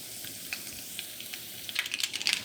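Mustard seeds, cumin and curry leaves frying in hot oil for a tempering, a soft sizzle breaking into sharp, quick crackles and pops that grow busier toward the end.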